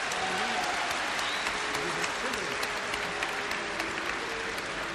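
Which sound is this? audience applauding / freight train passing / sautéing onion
audience applauding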